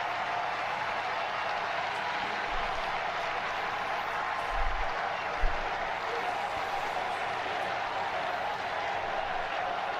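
Large crowd gathered for the first appearance of Pope Leo, producing a steady, even wash of distant applause and crowd noise for the whole stretch, with a couple of faint low thumps midway.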